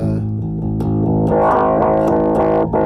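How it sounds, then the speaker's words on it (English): Bass guitar played through a Source Audio Multiwave Distortion pedal, loud and close, with a run of sustained distorted notes that turn buzzier and more filtered as the effect opens up. "So it's multi-wave distortion."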